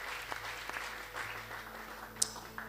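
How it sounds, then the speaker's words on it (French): Church congregation clapping at a service, a steady spread of applause holding at moderate level with a sharper clap or two standing out near the end. "Acclamez royalement pour la parole de Dieu."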